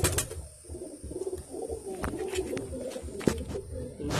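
A young Kalsira desi pigeon coos softly nearby in repeated low, throaty pulses, with light handling noises and a few clicks around it.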